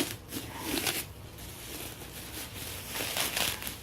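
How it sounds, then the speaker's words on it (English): Close, continuous crinkling and rustling of packaging, soft crackles rising and falling with no talking. "I'm sorry if you can hear nothing but rustling"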